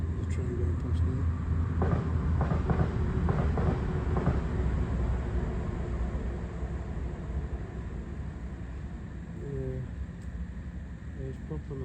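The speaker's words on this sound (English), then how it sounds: "it's just the train going past now" A train passes near an abandoned water tower, a continuous loud rumble and rattle of wheels that slowly eases over the stretch while people talk over it.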